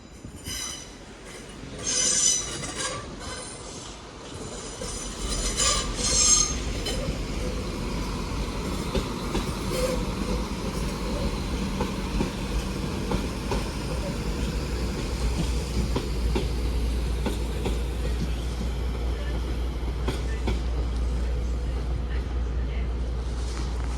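A pair of Class 185 trains depart Manchester Piccadilly station, a low steady rumble building and holding with wheel noise and faint squeals, while a voice talks briefly at the start.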